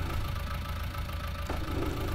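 A tractor engine in a farming video game idles with a steady, droning rumble and a faint mechanical knock, unbroken and constant throughout.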